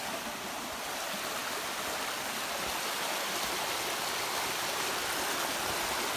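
Water rushes steadily through a river gorge near a waterfall, a dense, constant hiss and roar with no pauses, fairly close and unbroken by voices.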